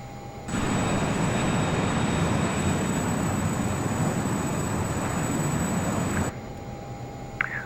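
A Flysimware Learjet 35A jet in Microsoft Flight Simulator taxiing at London City Airport, a steady broadband engine roar with a high whine that starts abruptly and holds evenly before cutting off, with no talk.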